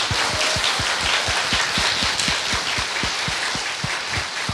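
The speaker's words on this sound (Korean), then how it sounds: "박수 좀 부탁드립니다." Studio audience at a Korean political talk show applauding a guest: a dense, steady wash of clapping with a regular, rhythmic low thump running beneath it throughout.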